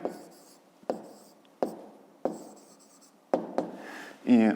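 A pen or pencil writes out a fifth-grade math exercise on paper, giving short scratching strokes in a steady series of separate bursts, close and quiet, with a brief voice at the end.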